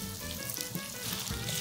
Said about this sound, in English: Whew, I always love that sizzle.